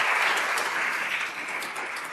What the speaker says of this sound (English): we need to give a round of applause for the ladies of SCI, Krista, Lindsay, Sherry, and Jenny.